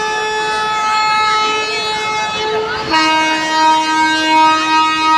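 A loud, sustained train horn blares near a railway station in Thane, Maharashtra, its pitch dropping partway through as the train passes.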